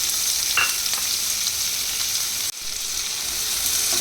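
Cumin, green chillies and chopped onions fry in a pan for a veg curry, giving a steady close sizzle with a brief dip in the middle, no voices.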